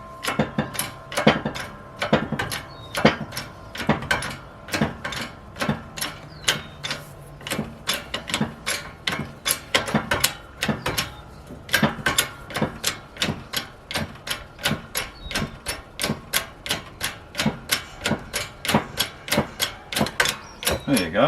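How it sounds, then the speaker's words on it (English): A press pushes a Mercedes pinion shaft out of its inner bearing, giving a long series of sharp, evenly spaced mechanical clicks and knocks, close and moderately loud, that continue at a steady rhythm. "And essentially we're just pushing the shaft"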